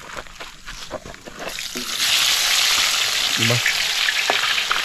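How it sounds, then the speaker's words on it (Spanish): Onion frying in a pan on a home kitchen stove, a loud, steady sizzle that swells and stays strong through the second half, with a few short voiced words spoken over it near the start. "Cocinamos un poco de cebolla."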